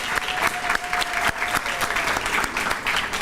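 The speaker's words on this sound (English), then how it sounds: "let's give them a round of applause" A crowd at a police graduation ceremony applauds, brisk dense clapping with sharp individual claps standing out, steady and lively throughout.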